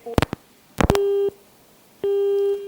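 Telephone busy tone after a dropped call, preceded by a few short clicks and blips, then two steady beeps of a single pitch repeating alone and clearly.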